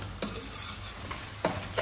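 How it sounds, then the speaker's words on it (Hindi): A spoon stirs and mashes qeema with garlic in a karahi, with soft continuous scraping over a faint sizzle and a few sharp metallic clinks against the pan. "हल्का सा इसको चम्मच मार लेंगे कि ये लहसुन के जो कुछ चंद पीसीज हैं ये इसमें अंदर मैश हो जाए"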